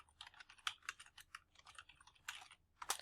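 Fingers type on a computer keyboard, a close, fairly quiet run of irregular key clicks with brief pauses and a few harder taps.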